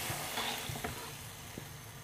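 Water added to arbi and meat frying in a pan gives a steady sizzle with a few clinks and stirring scrapes, close and moderately quiet.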